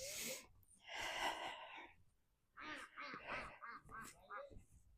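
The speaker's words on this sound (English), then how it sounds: "the ducks are fussing" Ducks quack and fuss in a farmyard setting during maple sap collecting, sounding as several raspy, nasal calls in bursts with short gaps between them, fairly close.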